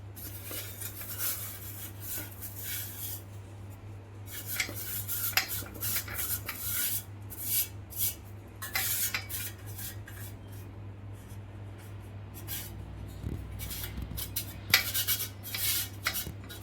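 Ground tamarind masala with chilli and sambar powder being mixed for gojju avalakki, with a steady scrape and clink of a spoon against a metal bowl and brief rubbing strokes over a constant low hum.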